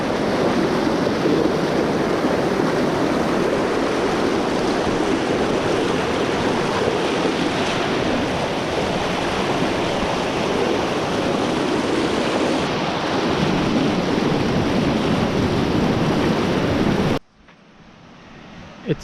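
River water rushes steadily at a trail crossing on the jungle trek to the Lost City in Colombia, a loud continuous wash with wind buffeting the microphone, then it cuts off abruptly near the end.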